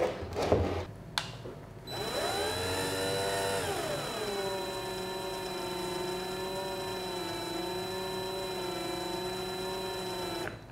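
An Ingco CDLI20021 cordless drill runs at its lowest speed setting, a steady, smooth whirring motor tone that ramps up after a couple of clicks and holds evenly, close and fairly loud.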